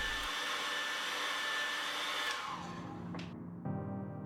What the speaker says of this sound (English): Using a hairdryer, heat the surface of display for 1 minute.